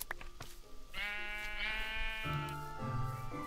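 A sheep in a blocky sandbox video game gives a couple of clear, wavering bleats, close and alone, over a soft game background.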